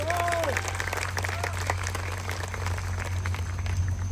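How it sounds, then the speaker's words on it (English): An event crowd at a fundraiser applauds the hosts with sustained, fairly loud clapping, and faint voices are mixed in throughout. "please join me in a round of applause for these incredible hosts"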